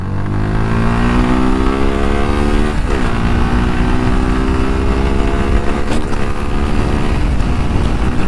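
A Suzuki Gixxer 155 BS6 motorcycle engine pulls away loud and close, its rising note climbing steadily as the bike accelerates, then holding a steady drone with no voices over it.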